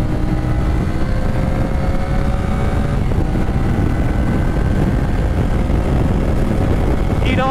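A CF Moto 450CL-C motorcycle engine idles close by in a steady, slightly raspy rumble that holds even and loud throughout, with no voices.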